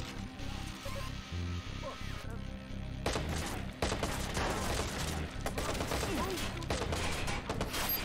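Gunfire in the video game Watch_Dogs, with rapid bursts and scattered shots that grow denser and louder in the second half, layered with clattering mechanical sounds and occasional voices.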